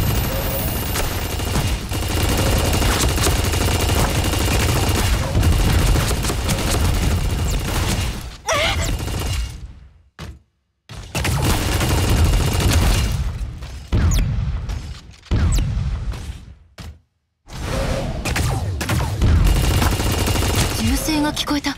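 Gunfire in the mech combat game Super Mecha Champions: loud, dense bursts of shots and booms go on almost without pause, broken by a few short silent gaps.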